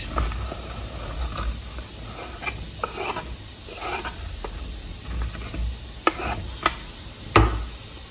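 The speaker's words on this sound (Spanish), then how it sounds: "En una cacerola voy a agregar un chorrito de aceite y por aquí tengo chuleta ahumada." Half a kilo of diced smoked pork chop fries in oil in a pot, with a steady close sizzling hiss broken by occasional scraping stirs and pops.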